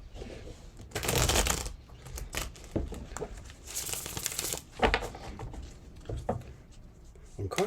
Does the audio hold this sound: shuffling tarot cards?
yes